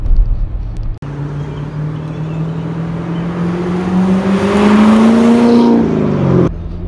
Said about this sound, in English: as soon as you just give it a little bit of gas